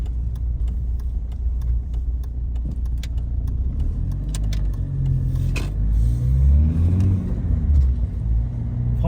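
BMW E46 on a test drive, steady low engine and road rumble from inside the cabin, with light rattling clicks and a slight swell of revs partway through, no talk over it.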